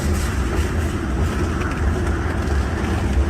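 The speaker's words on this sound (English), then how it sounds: "I love the sound of them railroad ties creaking." A freight train rolls past close by, its steel wheels pressing over wooden railroad ties in a continuous low rumble with faint creaks and rattles mixed in.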